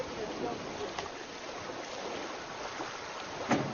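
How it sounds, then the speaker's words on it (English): A jet boat pushes up river rapids, with a steady broad rush of engine and churning water that stays constant throughout, and brief splashes breaking through. "Only the jet boat could get you up these rapids right now."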